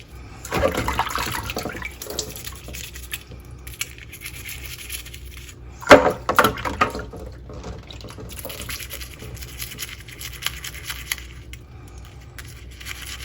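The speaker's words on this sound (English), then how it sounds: "let's get these ceramic pieces rinsing off" Water runs and splashes over ceramic pieces and Lake Superior rocks being rinsed, a steady faucet-like wash with a louder burst of splashing and scrubbing midway, no voices.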